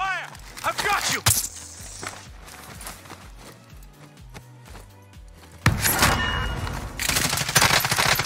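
Gunfire rings out in Call of Duty Warzone, rapid bursts and single shots cracking through busy game sounds, with a louder stretch of firing near the end; players talk over it.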